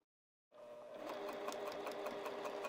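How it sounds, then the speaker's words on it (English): Domestic sewing machine stitching fabric with stretched elastic: starts abruptly after a short silence, then a steady, close, rapid mechanical chatter with a regular needle pulse. "We're gonna have to pull this elastic as we're sewing the fabric together."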